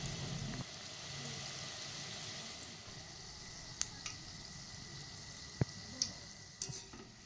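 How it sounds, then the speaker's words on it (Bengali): Fuluri batter balls fry in hot oil, a quiet, steady sizzling hiss with a few soft pops and clicks scattered through it, heard alone without talk. "এবার আমি ফুলুরিগুলো একটা একটা করে ছেড়ে দেব।"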